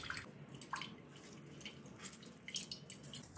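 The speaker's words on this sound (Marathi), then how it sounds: "पाणी काढून घ्यायचंय त्याच्यातलं।" Fresh chenna wrapped in cloth and squeezed gives off faint, close drips and trickles of whey, small irregular splashes over a quiet background with no talk.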